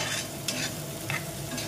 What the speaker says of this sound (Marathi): टोमॅटो टाकून घेऊया आणि चांगला मस्त परतून घेऊया